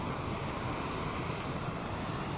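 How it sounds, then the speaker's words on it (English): Water rushes steadily over a small man-made rock waterfall by a creek, a constant broadband wash heard close up with no break. "there's a little rock, man-made rock waterfall over here, so it's trying to, it makes it kind of a nice noise"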